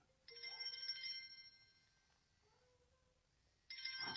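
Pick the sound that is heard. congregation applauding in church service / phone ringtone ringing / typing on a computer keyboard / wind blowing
phone ringtone ringing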